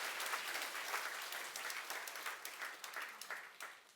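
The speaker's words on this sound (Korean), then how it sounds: "우리 하나님께 감사의 영광의 박수 올려드리기를 원합니다." Congregation applause at a Korean healing worship service, a dense steady patter of many hands clapping throughout, fairly loud and continuous with no voices.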